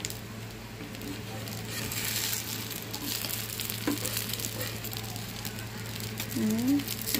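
Steady, close sizzling of an egg omelette frying in a light coat of oil in a pan, a constant crackling hiss with a low background hum and occasional faint voice.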